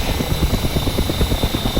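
AH-6J Little Bird helicopter in DCS World, rotor blades thumping in a fast, even rhythm over a steady turbine whine and broad engine roar, loud and continuous with no voices.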